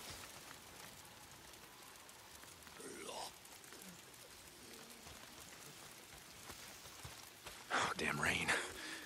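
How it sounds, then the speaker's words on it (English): Rain falls steadily in the open-world video game Days Gone, a constant hiss of drops on surfaces, with brief voice sounds and a louder burst of splashing noise near the end. "Oh, damn rain. If it's not the freaks, it's the goddamn rain."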